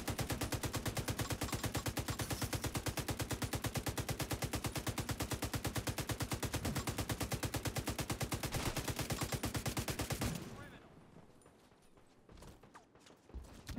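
Sustained automatic gunfire in The Division 2 on hardcore mode, a loud, rapid, unbroken stream of shots for about ten seconds that cuts off abruptly, leaving faint scattered game noise.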